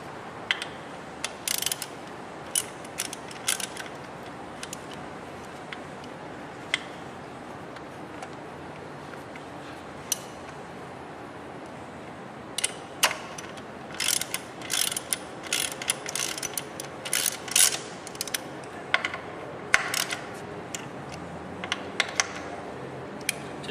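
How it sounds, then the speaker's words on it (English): Ratchet on the brake bolts of a Buell XB12 motorcycle wheel clicking in short bursts of quick metallic ticks, with pauses between, close by in a quiet garage. "just trying to get them tightened so that they're already there"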